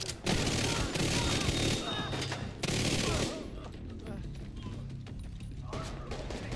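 Rapid automatic gunfire from The Division 2 during a Conflict PvP match, loud sustained bursts for about three seconds, then quieter scattered shots and game noise, with a player's voice over it.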